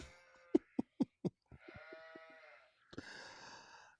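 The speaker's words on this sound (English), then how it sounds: "What did the sheep say?" Sheep bleating comes in short wavering calls after several sharp knocks, ending with a longer, harsher bleat, fairly clear with no talk over it.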